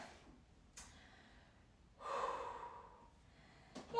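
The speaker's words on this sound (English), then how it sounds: "Take some nice deep breaths." Deep breaths taken while resting between rounds of a full-body dumbbell workout: three distinct breaths, a short sharp intake near the start, a longer louder exhale in the middle, and another quick intake at the end, close and alone.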